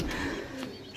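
A pigeon coos softly nearby, a brief low murmuring call over faint background noise.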